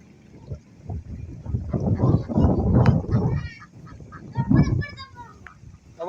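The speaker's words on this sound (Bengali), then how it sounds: "সব পাখিরা ঘরে যাইতেছে" Ducks or geese heading home as light rain begins call with nasal honks and quacks, several in short bursts, over a loud rumbling outdoor background.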